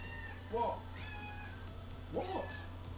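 A pet cat named Whiskers meows twice indoors, two clear separate calls about a second and a half apart, over a steady low hum from nearby equipment.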